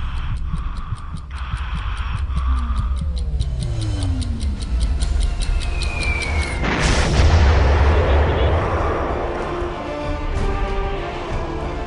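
A Rafale fighter jet fires its cannon and launches missiles, heard as a dense mix of booming blasts and rapid ticking bursts, with a falling whine and a loud roaring surge partway through, continuing under a steady rumble.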